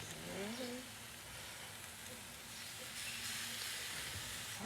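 Steady crackling sizzle of chicken thighs searing on a hot grill at about 400 degrees, a constant hiss with a faint voice briefly near the start.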